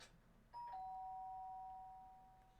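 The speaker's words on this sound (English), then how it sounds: "sound of the doorbell forced its way into my room" A single electronic doorbell chime from the video game Danganronpa: Trigger Happy Havoc rings out clearly, a sustained bright tone fading slowly over quiet background hum.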